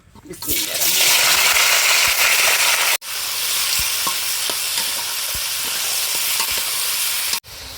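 Duck meat frying in soybean oil, a loud, steady sizzle that fills the clip, with scattered crackles and stirring sounds and two brief drops in sound where the recording cuts.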